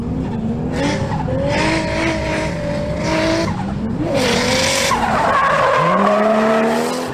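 A Toyota Cresta JZX100, a rear-wheel-drive mid-size luxury sedan, drifts with loud, continuous tire squeal and skidding that rises and shifts in pitch, over a revving engine, close and with no talk.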